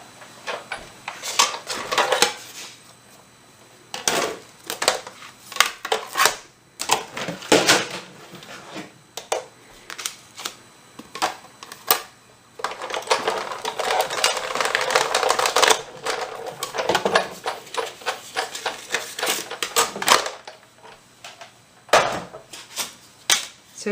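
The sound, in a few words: paper run through a die-cutting machine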